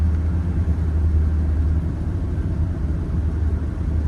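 A Mercedes-Benz 300SD diesel engine rumbles steadily while the car is driven, a close low drone with slight fluctuations and no voices.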